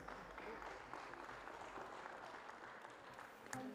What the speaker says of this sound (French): on peut les applaudir encore une fois bien fort s'il vous plaît